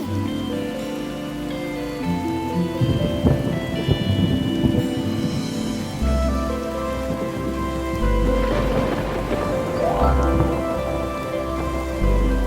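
Steady heavy rain pours in an animated village comedy cartoon, with deep rolls of thunder rumbling twice and a dense patter of drops throughout. Tonal music plays over it.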